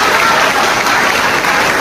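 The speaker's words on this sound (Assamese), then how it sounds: "ছাৰৰ কাৰণে এটা ডাঙৰকে হাত চাপৰি মাৰিব" A school audience of students gives loud, sustained applause for a teacher, dense steady clapping that fills the space close by with a faint crowd murmur.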